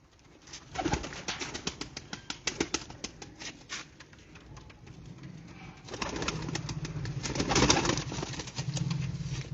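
Close pigeon cooing in repeated soft throaty bursts, with light fluttering and rustling noises between calls and a fuller stretch of cooing near the end.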